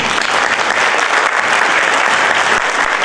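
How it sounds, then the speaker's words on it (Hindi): Audience applause fills an evening event with Anwar Maqsood, steady and dense for the full stretch, close and loud with no pauses or voices breaking through. "बजा दी तालियां"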